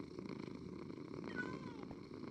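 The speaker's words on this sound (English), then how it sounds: "You can just hear them purring" Cats purring in the Minecraft video game, a soft continuous rumbling drone heard steadily throughout, with a faint high chirp partway through.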